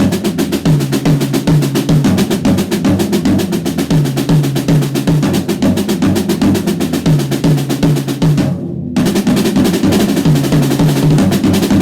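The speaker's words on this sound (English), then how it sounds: "maybe just move the accents to, like, say this floor tom and this high tom." Drum kit triplet pattern with accents moved to the floor tom and high tom, a dense, loud, continuous groove of hits with a brief gap near the end, no voices.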